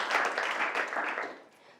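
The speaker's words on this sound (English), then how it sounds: "I want to give a quick clap to everybody in the room for their contributions." A room full of listeners at a talk claps together in a dense, even burst that holds strong, then thins and tapers away near the end.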